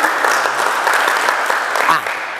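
A church congregation cheers and applauds for God, a dense, continuous wash of clapping and shouting voices that stays loud throughout before easing slightly near the end.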